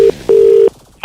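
Telephone keypad tones for a prank call: a short tone, a pause, then a longer steady tone, followed by quieter line noise and a faint click at the end, with no voices.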